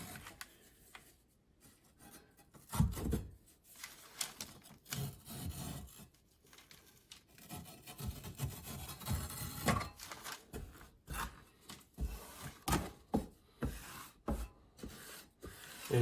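A taping knife scrapes and rubs against a tile backsplash wall beside a door casing, making faint, close, irregular rasping strokes with short pauses between passes.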